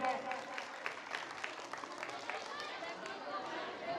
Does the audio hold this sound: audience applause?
yes